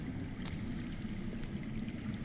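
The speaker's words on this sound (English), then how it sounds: "I hear water. From underground." Water flows and gurgles underground inside the Game of Thrones video game, a steady low wash that runs continuously on its own, faint and muffled.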